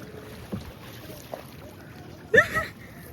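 A rowboat is hauled out on a flooded river during heavy rain: a faint, low rumbling background, then a short cluster of knocks and scrapes near the end, loudest there, with faint voices behind.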